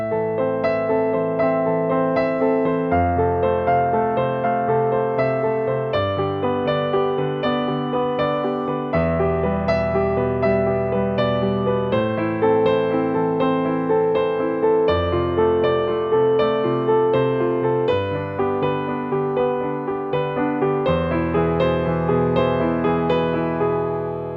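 Solo piano plays a verse, with gentle repeating broken chords over low bass notes that change every few seconds, close and even in volume.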